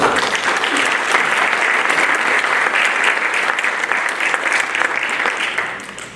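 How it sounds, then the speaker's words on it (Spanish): Audience at a panel discussion on social protest and use of force applauds steadily for several seconds, a dense, sustained clapping that begins to fade near the end. "Fuerte aplauso para ella."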